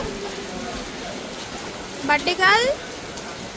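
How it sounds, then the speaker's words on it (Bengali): Steady rain falls through a gloomy day on the coast at Kuakata, Bangladesh, an even wash of drops under brief speech by a nearby voice. "কোনো বছরই আসলে এরকম বৃষ্টি হয় না, কিন্তু এই বছরই হচ্ছে এরকম বৃষ্টি"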